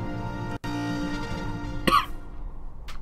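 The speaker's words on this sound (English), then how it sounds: "Cough again." A single sharp cough bursts out near the middle, close and fairly loud, over a steady game music bed during a Kingdom Hearts play session.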